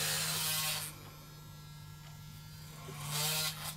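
Close buzz of a vibrating Gillette Fusion 5 Power razor, with scraping strokes over stubble at the start and end and a quieter steady hum between.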